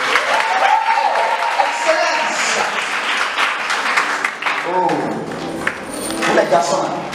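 A church youth gathering crowd claps and cheers continuously and loudly, sustained applause with voices calling out and a speaker talking over the noise throughout.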